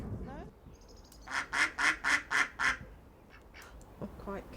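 Five loud, evenly spaced duck quacks sound close by in a burst, with quieter calls before and after and faint talk at the start.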